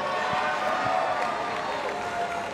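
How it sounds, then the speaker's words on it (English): Youth conference audience cheering and applauding for a contestant named Jackson before a dunk attempt, a steady, fairly loud wash of crowd noise with claps and shouts throughout. "Make some noise for Jackson."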